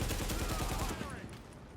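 Rapid automatic gunfire from a video game rattles in a dense, steady burst, then cuts off and leaves a faint ringing tail.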